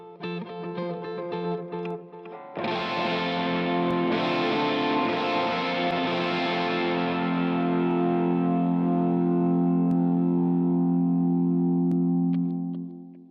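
An electric guitar is played through a Line 6 Helix distortion preset: a few picked notes, then a full strummed chord that rings out thick and sustained before cutting off, with no talking.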